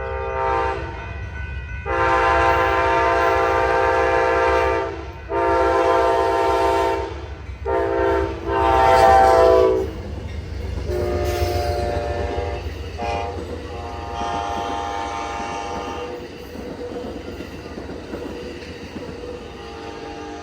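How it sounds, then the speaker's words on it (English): An eastbound Amtrak Sunset Limited passenger train sounds several long, loud horn blasts, a short blast among them, and then rumbles past steadily as the horn fades away. "we saw the eastbound Amtrak Sunset Limited."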